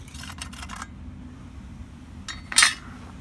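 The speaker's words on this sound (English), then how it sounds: "So we're going to take that screw out, pull this plate off" Small metal parts clink and scrape as a screw is removed and a cover plate is pulled off a Husqvarna 460 Rancher chainsaw, with a few soft rattles and then one sharp metallic clatter near the end.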